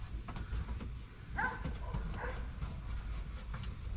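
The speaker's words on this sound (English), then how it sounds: "somebody's poor indoor dog is outside by himself and is getting separation anxiety. He's barking." A dog barks outdoors at a distance, a few short barks standing out over a steady background hum, as someone works restoring a 1969 Ford F-250 truck nearby.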